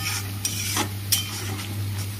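Green chillies dropped into hot frying oil with pointed gourd in a home kitchen: a steady hiss of sizzling with a low hum beneath and a couple of faint scraping stirs.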